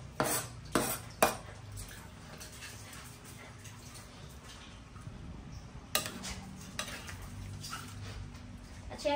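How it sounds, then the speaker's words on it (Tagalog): Chopped tamarind leaves dropped into boiling chicken soup for sinampalukang manok, giving a few sharp clatters of a utensil against a pot over a steady simmering wash, then a lighter clink near the end. "ilalagay na natin yung ginayat nating dahon ng sampalok."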